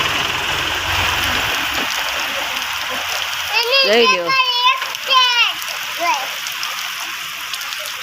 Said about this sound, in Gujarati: બહુ વરસાદ પડ્યો ભાઈ દુનિયામાં